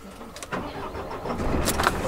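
The engine of a 4x4 expedition truck turns over and catches, a rough, muffled rumble that builds steadily over a couple of seconds with no talk.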